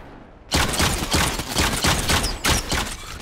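Hunter guns fire in rapid bursts in a Fortnite lucky block arena match, with sharp, loud, closely spaced shots repeating after a brief quiet opening, with no voices over them.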